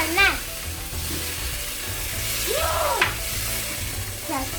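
Food sizzles steadily in a pan while being stirred, a continuous close frying hiss with scraping utensil strokes and brief tonal squeaks over it.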